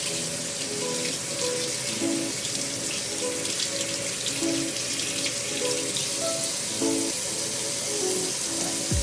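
Water runs steadily from a tap into a sink while lavender body scrub is being made, a continuous close splashing hiss with faint clinks and tones mixed in.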